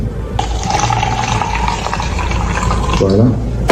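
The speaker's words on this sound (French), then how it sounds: "nous venons de remplir nos différents verres" Tap water pours steadily into a glass with a bright, gurgling splash that rises in pitch as the glass fills, someone talking over it.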